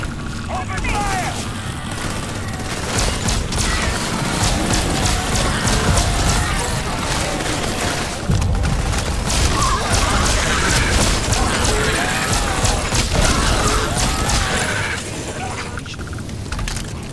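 Sustained gunfire in the sci-fi game Starfield, rapid cracking shots and booms forming a dense, loud barrage that runs almost continuously, with voices under the shooting.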